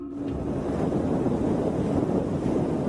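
Strong wind on a windy night in Spain, buffeting the microphone as a steady, dense roar throughout, with no voices.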